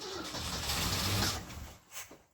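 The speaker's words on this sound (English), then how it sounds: "The old Ford seems to fire up pretty good around here." A 1974 Ford F-100 4x4 pickup engine cranks and fires up, with a loud, close rumbling churn that dips briefly and then gives a short rev near the end.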